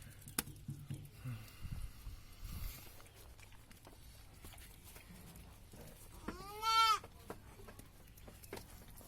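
A billy goat gives one clear, wavering bleat near the end, over quiet farmyard shuffling and footsteps, with a soft voice briefly at the start.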